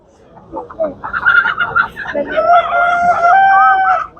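Village chickens and a rooster at a poultry market in Aydınlı, Tuzla, Istanbul, clucking close by before a rooster gives a long, loud crow, with people talking among the birds.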